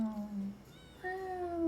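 Cartoonish cat meows from the video game Potionomics, two drawn-out mewing calls in a row, the second rising and held longer, fairly close and clear with no talk over them.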